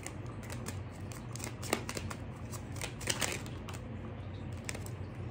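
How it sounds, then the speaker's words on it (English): Oracle cards are shuffled in soft, quick riffling and tapping bursts, faint and close over a steady low room hum. "let's get some oracle cards out"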